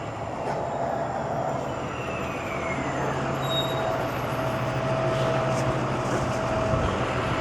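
A Toronto subway train sits at a station, its steady loud rumble and hum filling the space with a faint high squeal of wheels drifting through.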